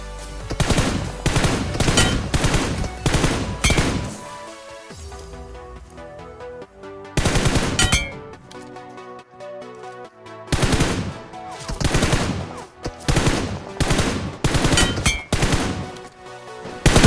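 Short bursts of M416 rifle fire in PUBG, a video game, come in loud, close groups of rapid shots separated by quieter gaps, repeating through the whole stretch with no talk.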